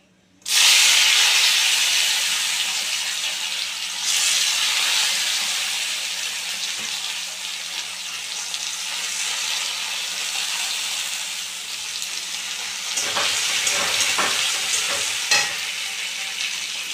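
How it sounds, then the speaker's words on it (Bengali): Chopped tomato drops into hot oil already fried with whole garam masala spices, bursting into a loud, steady sizzle that hisses on with occasional stirring scrapes near the end. "গোটা গরম মশলাটা আমার মোটামুটি হয়ে গেছে, আমি এবারে টমেটো কুচিটা তুলে দিচ্ছি"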